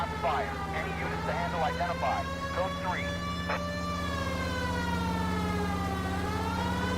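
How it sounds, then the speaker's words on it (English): A loud wailing police siren in L.A. Noire rises and falls continuously, sustained throughout over a steady engine drone, while a voice talks briefly over it at first. "it's time for the siren"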